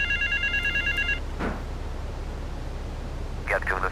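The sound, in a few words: telephone ringing in video game Grand Theft Auto III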